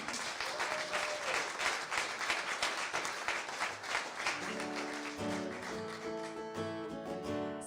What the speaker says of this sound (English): So clap for Bob and also everyone else working tonight to make this night happen.